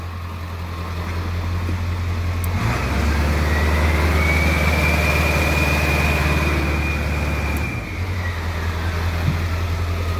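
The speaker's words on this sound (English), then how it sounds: "Dang, that turbo sounds so good." Close by, a straight-piped 1996 Ford F-250 7.3L diesel rumbles at idle, then raises to high idle with a rising turbo whistle that holds for several seconds before dropping back to the lower throb.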